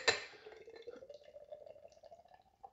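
Lagunitas Hazy Wonder IPA beer pours into a glass, starting with a splash, then a soft bubbling trickle whose pitch rises gradually as the glass fills, quiet and close.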